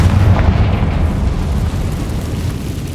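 A loud, booming fire-spell blast from Confringo in Hogwarts Legacy, a deep explosive roar that holds steady and rumbles on for several seconds with no pause.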